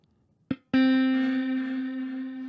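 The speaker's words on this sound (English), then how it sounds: "let's go and select electric guitar" An electric guitar preset in FL Studio gives a short plucked hit, then a single bright, sustained note that rings steadily and fades only slightly, clean and alone.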